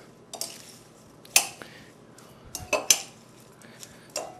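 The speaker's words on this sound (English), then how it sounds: "You just kind of mix that up." Salt and oil dressing stirred in a bowl, a few sharp utensil clinks against the dish spaced across a quiet moment, close and fairly loud with no talk.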